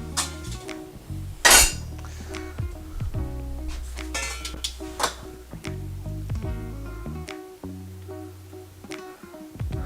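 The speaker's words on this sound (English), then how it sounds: "we're gonna put our wok back onto the stove" Metal wok and pots clanking on a stovetop during a live Korean soft tofu stew cooking session: a loud clang near the start, then scattered clinks and knocks.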